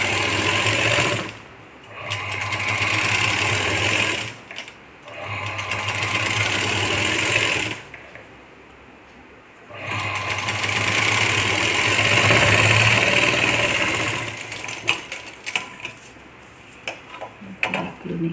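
A sewing machine stitches a patch onto a blouse of Paithani silk saree fabric, running in several steady whirring bursts separated by short pauses, close by, with light clicks near the end and no talking.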